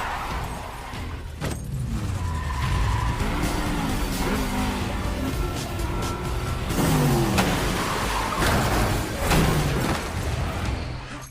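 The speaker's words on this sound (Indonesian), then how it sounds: "Mereka mencoba menghentikannya dengan menabrakkan mobil masing-masing." Cars ram one another and skid during a chase in the action film John Wick 2, with tire squeals and engine roar sustained over a loud, dense bed of crashes and music.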